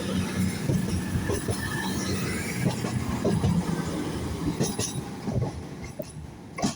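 A Class 220 diesel train on a cross-country service from Newcastle to Reading passes through Darlington with a moderate rumble, rhythmic wheel clatter and brief squeals, and no voices.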